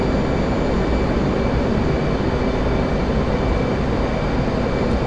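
F/A-18 Hornet jet in flight in the DCS simulator during a Case 1 carrier landing pattern, a steady loud broadband engine roar with a low rumble holding constant for the whole stretch, no voices over it.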